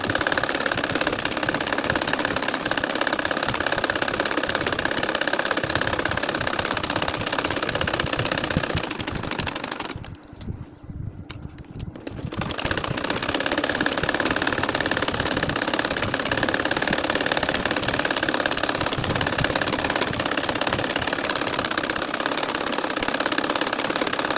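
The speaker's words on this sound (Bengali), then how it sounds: "আরও একটা লাইন সোজাভাবে ধরে আমি সেলাই করে যাচ্ছি" A sewing machine stitches straight lines into a nakshi kantha quilt, its motor running in a steady, close whir that stops briefly midway and then resumes, with no talking.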